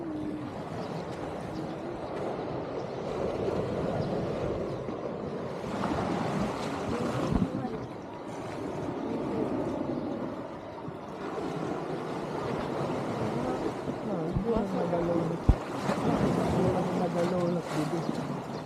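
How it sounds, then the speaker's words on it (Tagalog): Steady rush of sea waves breaking and washing in at a tide embankment, with wind buffeting the microphone and voices talking intermittently over the surf. "Ito ang dagat."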